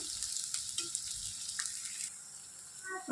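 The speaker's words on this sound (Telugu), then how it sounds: "కొంచెం బ్రౌన్ కలర్ వచ్చే వరకు వేయించుకుందాం" Garlic and onions frying in a pan until lightly browned, a steady close sizzle with a few faint clinks of stirring, no voices.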